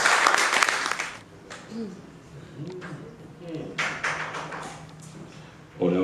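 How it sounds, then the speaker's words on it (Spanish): Audience applause at a poetry reading in a library, a burst of clapping opening the moment, then fading to room murmur and scattered claps before a brief renewed clap at the end. "un fuerte aplauso para..."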